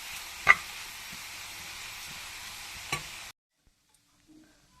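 Grated carrot and drumstick leaves sauté in a pan, giving a steady close sizzle for about three seconds, with two sharp knocks from stirring. The sound then cuts to near silence.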